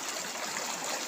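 Shallow stream water trickling and gurgling where dogs wade to cool off on a warm summer walk, a soft, steady, close babble with no talk.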